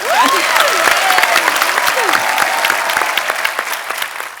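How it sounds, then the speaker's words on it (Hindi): A studio audience at The Kapil Sharma Show, an Indian comedy talk show, breaks into loud, sustained applause, dense clapping filling the room with a few whoops and cheers mixed in. "हमारी भाभी के लिए जोरदार तालियां"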